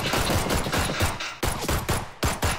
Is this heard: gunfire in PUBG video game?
yes